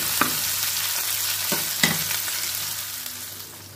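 Chopped onions sizzling gently in oil for an eggplant poppy-seed dish, with a few sharp utensil knocks against the pan as they are stirred, the frying fading slightly toward the end, no voices.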